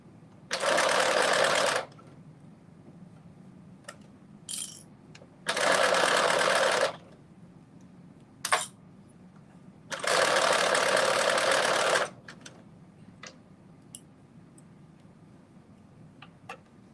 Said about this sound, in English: I am almost finished sewing this first ruffle on.